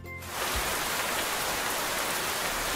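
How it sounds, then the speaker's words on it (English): Steady rain fills the air with a dense, even hiss of drops striking surfaces, starting abruptly and holding loud and constant with no voices. "even the sound of rain"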